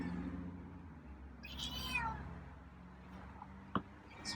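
A feral cat gives a few soft, quiet meows outdoors at night in light rain, one drawn-out call in the middle and a brief faint one near the end over a low background hum.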